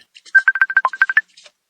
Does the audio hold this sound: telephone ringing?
yes